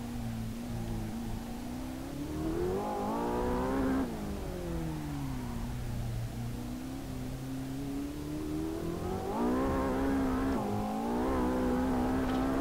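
A race car in Assetto Corsa on the Mount Akina mountain road revs and shifts continuously, its engine tone rising and falling loud and close, with a few quick crackles that may be backfire pops.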